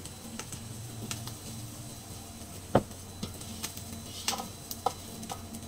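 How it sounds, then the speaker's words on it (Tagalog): Cooked rice tipped into a hot frying pan with soy sauce-seasoned ingredients for a staff meal, then stirred, giving a soft steady sizzle with scattered scraping taps of a utensil against the pan. "nilalagay ko na yung kanin"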